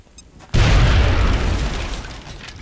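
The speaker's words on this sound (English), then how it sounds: "we're gonna throw a grenade at him because he's in heavy cover." In the strategy video game XCOM Enemy Within, a thrown grenade goes off with a sudden loud boom that rolls into a long rumbling blast, preceded by a brief faint quiet moment.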